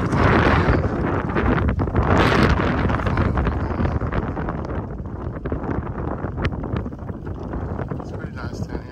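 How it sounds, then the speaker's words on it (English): Strong wind blows outdoors at a lakeside boat ramp, battering the microphone with a continuous loud rumble and gusts throughout, with no talk. "It's pretty windy today"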